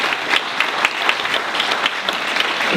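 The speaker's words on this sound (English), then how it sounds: "Give a round of applause." A crowd of guests applauds warmly at a community event, steady dense clapping with a few sharper claps standing out, sustained throughout.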